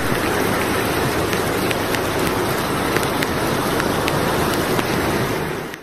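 Heavy downpour during flooding in Şanlıurfa, a loud, dense, steady roar of rain hitting surfaces with occasional sharper drop hits, constant throughout before cutting off at the end.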